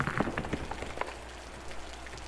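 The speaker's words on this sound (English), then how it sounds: "And we're getting rained on." Steady rain falls across an alien outdoor landscape in the survival game Osiris: New Dawn, a dense hiss with scattered brighter patters near the start, holding at a fairly even, moderate level throughout.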